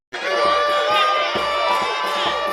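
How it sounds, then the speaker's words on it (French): Audience at a master's degree graduation ceremony in Kinshasa breaking into loud cheering and shouting, a dense, sustained crowd roar starting abruptly and holding for a couple of seconds. "Sous vos applaudissements."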